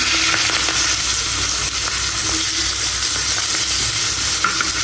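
Pangas fish pieces frying hard in a pan, a steady loud sizzle with stirring scrapes running throughout, close and continuous with no talk.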